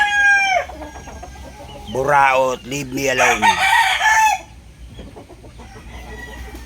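A Burdoguy Kapsul bloodline gamefowl rooster crows with a drawn-out, stuttering call, then a few short clucks follow, while a voice speaks briefly near the start.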